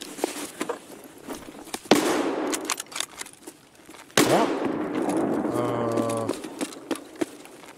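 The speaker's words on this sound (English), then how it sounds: "Guy trying to shoot me through a wall?" Sharp, loud gunshots ring out in Escape from Tarkov, a couple of hard cracks followed by sustained rumbling and echoing noise, with a tonal buzzing sound near the end.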